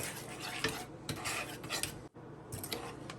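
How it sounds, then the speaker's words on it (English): A utensil stirs and scrapes steadily in a pan, working butter, brown sugar and heavy cream into a caramel sauce, with a faint sizzle underneath and a brief pause partway through. "It's going to be a lot of stirring to get that butter, brown sugar, and cream, heavy cream mixed in."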